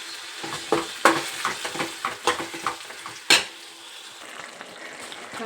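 A pan of frying with salt just added, a soft continuous sizzle broken by several sharp stirring scrapes and clicks of a spoon against the metal, close and fairly quiet.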